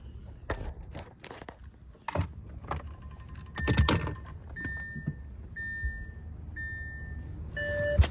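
Car keys jangle in short metallic bursts as the key goes into the ignition of a car, followed by a series of repeated electronic chimes, close by with no talking.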